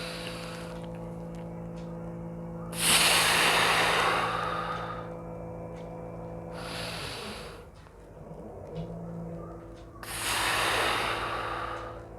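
Deep breathing during a lung exercise with backward bending: three long, loud airy breaths, each lasting about two seconds, spaced several seconds apart over a steady background hum, with no talking.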